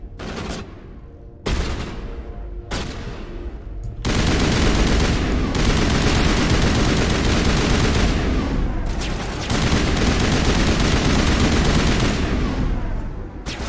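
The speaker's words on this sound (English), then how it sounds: "the gun sound effects in this game are really good" Gunfire in Mass Effect Legendary on Noveria: a couple of short bursts, then sustained loud automatic fire roaring almost continuously, with brief pauses between long volleys.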